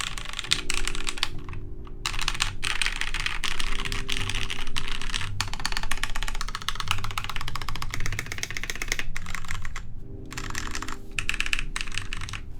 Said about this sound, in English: This is my Filco with MX Browns.